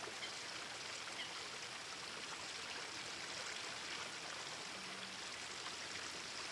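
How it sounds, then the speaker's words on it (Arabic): Water flows returned to farmland, making a steady, faint, continuous rushing hiss like a small stream, with no talking. "وهلا رجعت المي ورجع الكل مبسوط، مو هيك يا صالح؟"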